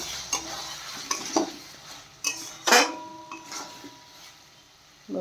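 Broccoli and potatoes are stirred in a pan, with scraping strokes of a metal utensil and light clinks over a faint sizzle, spaced irregularly.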